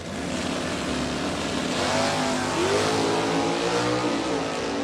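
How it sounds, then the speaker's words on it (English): Drag race cars at a Super Stock event, an '82 Firebird and a first-gen Camaro with C automatic, roar loudly and continuously as engines rev and accelerate, rising in pitch near the middle. "he will be chased by Dwayne Wade's first-gen Camaro, the C automatic out of Rochester, Indiana"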